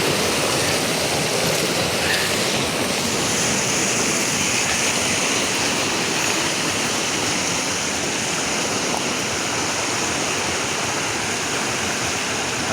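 A creek rushes steadily over rocks in a loud, constant roar, close by and continuous with no voices.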